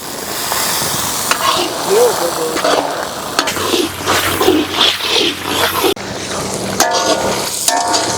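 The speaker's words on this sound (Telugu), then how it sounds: "ఎర్రగడ్డలు, అల్లం పేస్ట్ బాగా వేగినాయి. ఇప్పుడు జంపుగా కోసుకున్న టమోటాలు వేసేద్దామన్నావు." Chopped tomatoes fry with onions and ginger paste in a kadai for chicken fry piece biryani, giving a steady close sizzle with intermittent stirring scrapes throughout.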